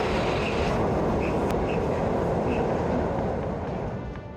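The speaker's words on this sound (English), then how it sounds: "There was a train going over me." A loud, steady rumbling roar of a train passing directly overhead, close by in Japan, with dense low-frequency noise that tapers off slightly toward the end.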